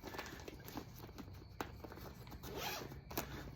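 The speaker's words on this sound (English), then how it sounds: "Got a couple of zippers here." A zipper on the lid of a field pack is pulled open in several quick rasping strokes, close and quiet, with faint handling noise and no talk.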